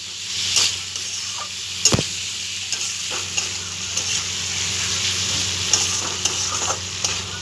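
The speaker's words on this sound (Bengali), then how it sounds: "এবার আমরা পুরো মশলাগুলোকে আমরা ভালোভাবে এটা কষে নেব।" Spice paste being stir-fried in a pan sizzles steadily under repeated sharp scrapes and taps of a spatula against the pan.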